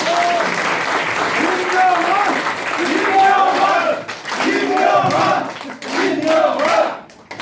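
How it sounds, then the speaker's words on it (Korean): An audience at a party office opening ceremony in Uijeongbu gives sustained welcoming applause, loud and close, with cheers and shouts mixed in and dipping briefly near the end. "여러분 큰 환영의 박수 부탁드립니다"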